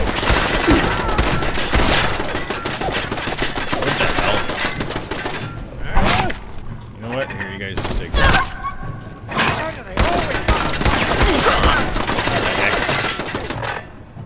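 Bursts of gunfire in the Fallout 4 game at the Corvega Assembly Plant, loud rapid volleys with short pauses, sharp thuds and clattering shots filling most of the stretch, a player's voice breaking in now and then.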